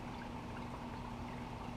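Water pours steadily onto seed starting mix in a planting pot for dwarf tomato seeds, a continuous close splashing stream with a low hum underneath, heard alone without talk.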